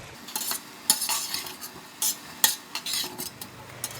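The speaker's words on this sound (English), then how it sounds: "Give it a stir." Cubed potato is stirred in a pot for leek and potato soup, with repeated scraping and clinking of a utensil against the pot and a soft sizzle underneath, close and irregular.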